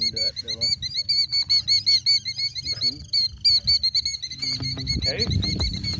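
Birds near a nest with eggs on an outdoor landscaped island call repeatedly in sharp, high chirps, with steady bursts over a rustling, noisy background and some handling sounds.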